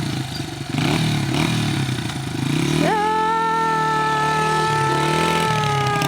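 Motorbike on a Sunday evening ride, its engine loud and close, rumbling unevenly at first, then rising into a steady higher-pitched drone as it picks up speed.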